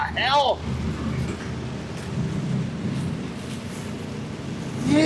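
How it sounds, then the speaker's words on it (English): Heavy rain pounds during a hail storm, a steady loud roar of rain throughout, with brief sweeping tones at the start and end and people talking faintly beneath it. "Man, it's loud in here, this heavy rain."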